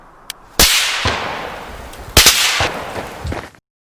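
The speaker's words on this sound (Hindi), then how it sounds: "तभी मैंने गली के बाहर गोली चलने की आवाज सुनाई दी।" Loud gunshots crack out in a rapid series in a street, each sharp report followed by a rolling echo, with no voices.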